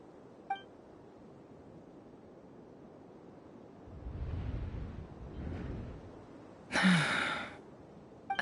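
A female character in the Genshin Impact game, Yehuda, gives a short, sharp gasp near the end of a quiet stretch, preceded by faint breathy sighs and a soft chime.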